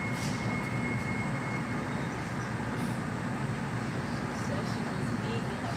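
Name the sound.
Mattapan line train riding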